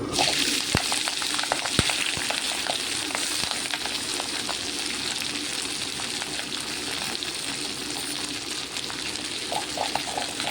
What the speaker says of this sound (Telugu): నూనె కాగిపోయింది, ఆకేసుకుందాము.